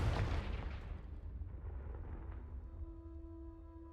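A Confringo fire spell explodes in Hogwarts Legacy as one deep, booming blast that rumbles and fades into a soft lingering tone.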